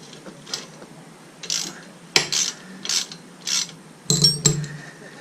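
Clamp bolts on the silencer of a Moto Guzzi V7 motorcycle being tightened with a ratchet, giving close, crisp bursts of clicking in a steady rhythm of about one burst every half second.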